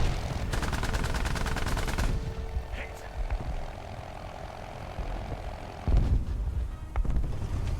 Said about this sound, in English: Oh god, the world's slowest traverse for the machine guns.